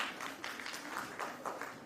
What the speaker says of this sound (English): A big round of applause for this wonderful performance